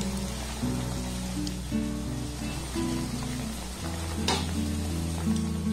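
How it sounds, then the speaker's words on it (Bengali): Puffed-rice sweets fry in hot oil over a low-to-medium gas flame, giving a steady, continuous sizzle with light stirring scrapes, close and even throughout. "গ্যাসের ফ্লেমটাকে লো টু মিডিয়াম রেখে এটাকে আমি খুব ভালোভাবে ভেজে নিয়েছি"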